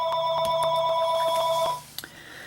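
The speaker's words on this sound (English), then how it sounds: "Sorry about that. It's my office phone." An office telephone rings with a bright electronic trill, repeating steadily for under two seconds before cutting off abruptly, close and fairly loud with no talk.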